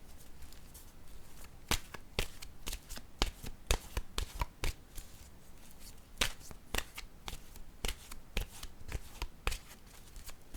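Oracle cards are shuffled by hand, a close series of sharp riffling snaps in irregular bursts over about ten seconds with no speech.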